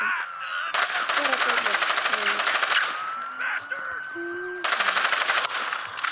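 Rapid automatic gunfire from the Gangstar Vegas video game rattles in dense, loud bursts that stop and restart, with a voice talking over it.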